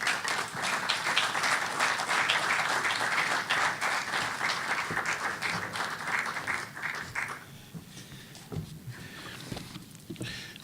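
Loud, sustained audience applause welcoming a speaker at a lecture event, a dense wash of clapping for about seven seconds that then fades into scattered claps and room noise.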